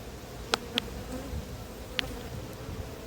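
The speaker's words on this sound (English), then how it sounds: "there's a lovely lot of bees in here," Many bees in a hive hum in a dense, steady drone close by, with a few sharp clicks and taps cutting through.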